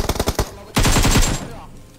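Automatic gunfire in PUBG Mobile: a quick burst of several sharp shots, then a louder, denser volley of rapid rounds that fades, close and loud.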